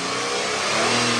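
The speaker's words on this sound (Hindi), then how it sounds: "आप इंजन रेस कीजिए, इंजन को रेस कीजिए" A Nissan Datsun redi-GO small car engine revs hard in a steady, loud, continuous roar with no talking.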